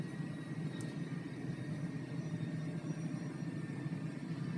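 F-16 jet engine in the DCS combat flight game shutting down on the ground after taxiing, a steady low rumble and whine that holds at a moderate, even level without talk.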